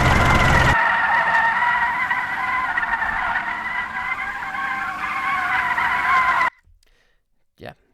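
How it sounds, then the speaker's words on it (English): A looping tire squeal effect plays as a sustained, loud, wavering screech that holds steady for several seconds, then cuts off abruptly into near silence. "Drop my tire squealing loop in there."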